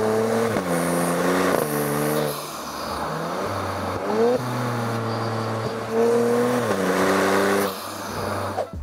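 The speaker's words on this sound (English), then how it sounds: "The turbo is a whirly boy. You can literally hear it. The exhaust sounds great." A 2025 Genesis G70 with a twin-turbo V6 accelerates hard through repeated gear shifts, its exhaust droning and rising in pitch with each pull while the turbo whines, loud and close.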